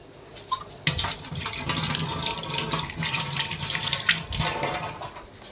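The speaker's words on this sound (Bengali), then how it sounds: "এটা ভালো করে ধুয়ে নিই আগে" Lemon leaves are washed under a running kitchen tap, as water gushes steadily into a sink after a sharp start, with splashing and dripping close by.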